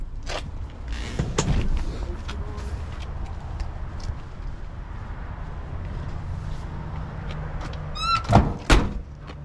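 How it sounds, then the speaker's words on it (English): The door of a 1969 Ford Mustang Boss tribute with a 351W V8 is shut, giving a solid thump followed by a couple of lighter clunks near the end of a quiet stretch. "Door shut good."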